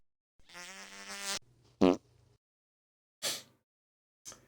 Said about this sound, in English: I might have just like added all the fart sounds in, and now it's a fart piano.